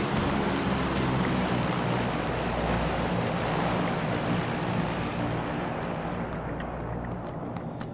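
A steady propeller-plane engine drones overhead in a video game for several seconds, loud and constant, slowly fading slightly toward the end.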